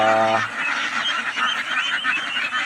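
Large ducks honking, a loud nasal honk at the start followed by a busy chorus of overlapping calls from several birds nearby.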